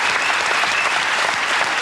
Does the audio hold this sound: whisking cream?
no